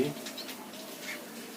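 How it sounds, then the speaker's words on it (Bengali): A pet cockatiel calls softly at home during cool, rainy weather, giving faint, brief chirps and warbles against a quiet background. "কোকাটেল পাখি"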